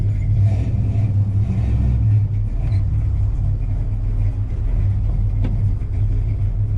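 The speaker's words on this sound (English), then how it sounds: "let's go take a cruise around the block and" A 1969 Dodge Coronet 500 with an 8 3/4 rear end and 373 gears cruises around the block, its engine a steady loud low rumble throughout with slight swells as it pulls.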